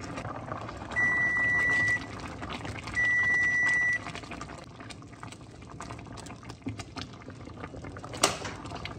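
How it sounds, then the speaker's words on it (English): Two steady electronic beeps of about one second each, a second apart, sound from a kitchen timer while a pot of water boils for canning balsamic onion jam, with quiet bubbling and clinks afterward. "I'm going to turn the timer on for 1 minute."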